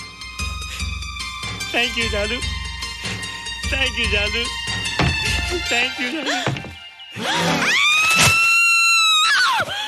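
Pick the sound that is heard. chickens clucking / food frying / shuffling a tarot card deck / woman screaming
woman screaming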